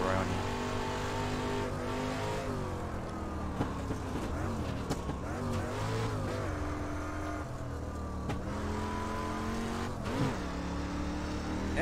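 Dirt race car engine in the iRacing sim, droning and revving steadily throughout with shifting harmonic pitch sweeps as it slides through corners, loud and continuous with faint voice underneath.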